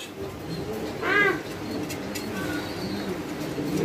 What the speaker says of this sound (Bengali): এটা কি মুখী কবুতর না?